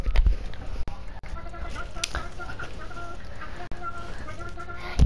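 Chicken clucking sounds inside a Rogue Company match, repeated short clucks mixed with game clicks and thumps, with a player talking at times.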